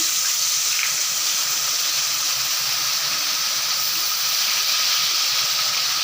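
Chopped onions sizzle in hot oil with crushed dried chillies and cardamom, the start of a pangas fish curry, giving a loud, steady, unbroken hiss with no talking.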